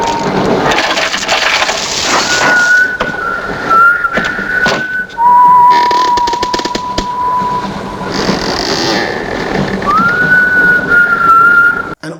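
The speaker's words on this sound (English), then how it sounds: "One of the most memorable moments is the film's theme tune, which the creature whistles throughout the picture" A lone whistler carries the haunting theme tune from the horror film Horror Express, holding clear sustained notes and simple melodic phrases over faint background sound.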